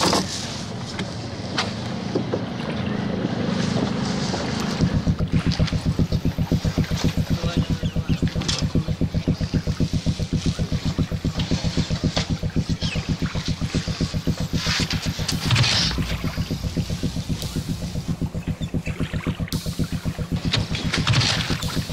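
A boat motor runs steadily with a rapid, even chugging pulse that starts after a few seconds and continues at a constant level, fairly close.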